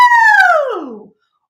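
A singer's voice mimics a siren as a head voice exercise, one high gliding 'woo' that swoops smoothly downward in pitch and fades out after about a second.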